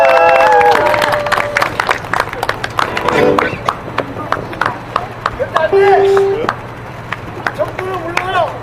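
A candlelight rally crowd in Daejeon claps in a steady rhythm, the sharp beats repeating evenly for several seconds alongside voices and sustained musical tones.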